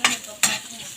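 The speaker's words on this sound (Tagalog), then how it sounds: "Saute all ingredients except vegetable." Garlic and onion sauté in hot cooking oil in a pan, with two bursts of bright sizzling and stirring scrapes about 0.4 seconds apart. A steadier, fainter frying hiss carries on between and after them.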